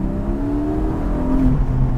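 The 4.0-litre flat-six mid-mounted in a Porsche 718 GTS revs steadily from inside the car, a loud continuous engine drone with rising and falling pitch and no talking.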